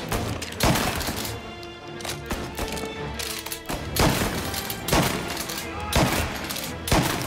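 Repeated gunshots ring out in Mafia Definitive Edition during a car chase, sharp loud cracks spaced roughly every half second to a second, some in quick pairs, with echoing tails between them.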